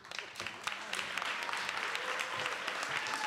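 Audience at a GRCC Learning Corner graduation ceremony applauding, a dense crackle of clapping with some voices mixed in, steady and moderately distant throughout.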